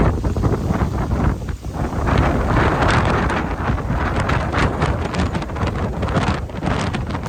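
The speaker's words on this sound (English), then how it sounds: "now I'm going to let you hear how crazy windy the beach was" Strong wind roars across the beach at Disney's Lookout Cay island, a loud, steady buffeting rush with heavy microphone rumble and gusting swells, no voices over it.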